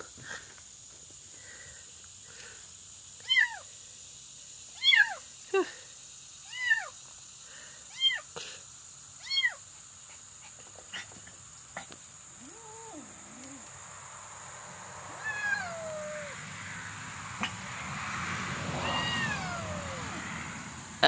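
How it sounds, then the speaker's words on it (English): A small cat meows repeatedly, about six rising and falling calls spaced a second or so apart, close and clear over a faint steady insect hum, followed by quieter rustling and a low murmur later. "Oh, poor little kitty."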